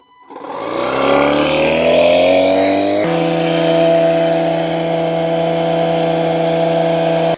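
An Etenwolf S7 battery-powered portable air compressor spins up to inflate a Jeep tire, its motor rising in pitch at the start and then settling into a loud, steady, close buzzing drone with no talk.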